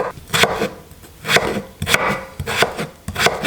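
Potatoes being chopped into small cubes on a board, a close, brisk series of knife strikes in uneven bursts with short pauses between, no voices.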